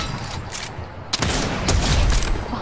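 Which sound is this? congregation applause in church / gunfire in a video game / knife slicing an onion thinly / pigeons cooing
gunfire in a video game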